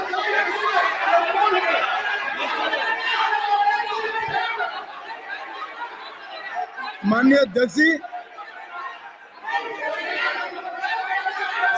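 A loud, chaotic din of many voices shouting over one another in a large hall, with one voice trying to speak through the uproar.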